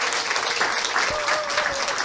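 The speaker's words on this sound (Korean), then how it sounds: "우리 이명우 본부장님께 감사의 박수 좀 부탁드립니다" An audience at a sales training course gives a guest lecturer, a headquarters director, a steady burst of close, dense clapping that fills the whole moment.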